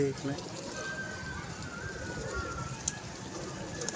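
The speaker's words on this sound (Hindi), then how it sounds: "बड़ा वीआईपी कबूतर है।" Pigeons from a pigeon club coo softly in the background, nearby but faint, while people talk over a steady ambient hum.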